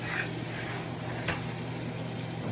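Marinade sizzling in a pot with pork belly for adobo, a soft steady hiss with a faint bubbling texture and a brief clink partway through, no voices.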